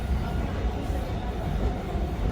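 Riding a train in Japan: a steady, dense rumble of the moving carriage fills the whole stretch, a continuous broadband roar with no clear voices on top.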